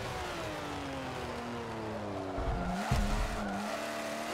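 A Porsche race car in Forza Motorsport 7 drives with a steady engine drone and shifting revs, a brief swell and thump near the end as the rear slides loose, with no talking over it.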